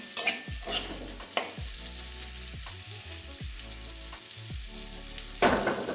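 Potatoes fry with spices in a pan, a soft steady sizzle under repeated rhythmic scraping strokes as a spoon stirs them, with a clack or two of utensil on metal.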